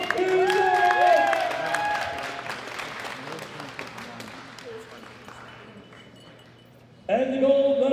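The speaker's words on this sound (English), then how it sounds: "Big round of applause for Joy Namani" An audience claps and applauds at a medal ceremony at the 2018 World Classic Powerlifting Championships, Women Open 52 kg, with a loud burst of dense clapping that gradually fades before an announcer's voice cuts back in near the end.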